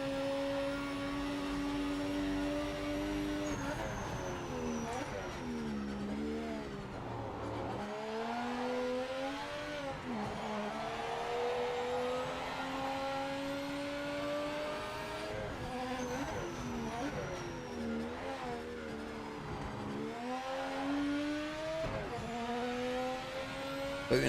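A race car engine in the video game Project Motor Racing revs through a lap, climbing and dropping in pitch through repeated gear shifts and braking. The engine is loud and continuous throughout.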